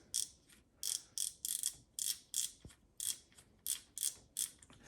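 A bow sight's windage adjustment knob being loosened, giving a steady series of about a dozen crisp, close mechanical ratchet clicks in even rhythm, with no talking.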